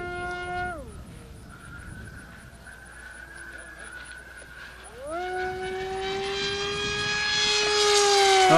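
HobbyKing SkyFighter V3 RC plane with an electric motor at full throttle in flight, a steady whining drone that dips and then climbs in pitch as it passes, growing louder toward the end.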